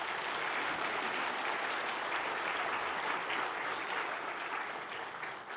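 A church congregation claps during a Christmas Day worship service after an orchestra's final hymn. The applause is loud and sustained, a dense wash of many hands that runs throughout and tapers slightly at the close.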